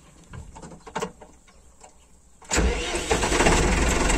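A farm tractor starts during the end of haymaking outdoors: a short quiet stretch with faint background sounds, then the engine catches and settles into a loud, steady rumble close by.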